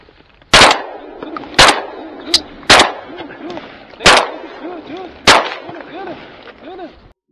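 Shotgun blasts ring out during a duck hunt in Mexico, six sharp reports at irregular intervals, each with a long echoing tail. Duck calls or quacking sound faintly between the shots.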